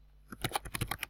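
Quick burst of typing on a computer keyboard, about eight crisp key clicks in an irregular run, close and clear against a quiet room.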